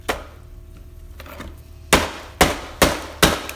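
Hammer blows ring out in a garage as a bundle is struck: one early hit, then four sharp, evenly spaced strikes close by over a low background hum.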